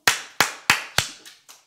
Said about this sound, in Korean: 제가 이 박수소리가 엄청 큽니다